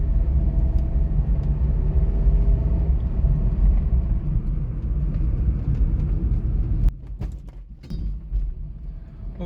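A 2018 Honda City petrol automatic sedan drives at high speed, its steady road and engine rumble heard from inside the cabin before the roar drops off sharply near the end, leaving faint clicks and knocks.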